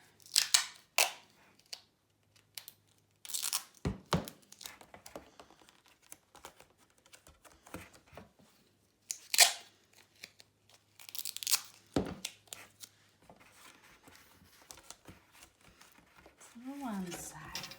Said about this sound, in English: Add some tape.